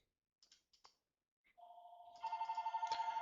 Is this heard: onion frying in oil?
no